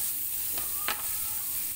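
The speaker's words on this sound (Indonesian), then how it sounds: "Kita tumis sampai harum dan layu ya" Onion and garlic sautéing in a pan for vegetable risoles, a steady broadband sizzle with a couple of brief stirring scrapes near the middle, close and alone without speech.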